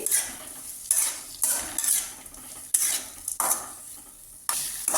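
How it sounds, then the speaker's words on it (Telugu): Tomatoes cooking down in a hot pan, stirred with a metal spoon: repeated scraping strokes against the pan over a continuous sizzle, each stroke a short bright burst with brief pauses between, close and fairly loud, no voices. "టమాటాస్ని బాగా మగ్గించుకోవాలండి"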